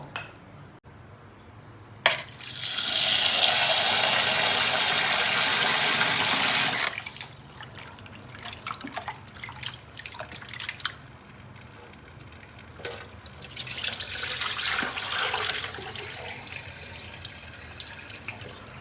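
Tap water gushes loudly for several seconds while raw mutton is washed, then splashing and handling sounds follow, with the tap running again in a second burst.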